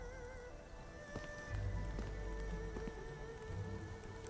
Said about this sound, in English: Splattering rain.